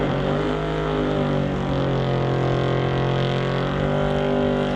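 A 1971 Chevelle and a 1983 Cutlass at a drag strip, loud sustained engine roar with strong harmonic drone holding steady throughout, close and unbroken.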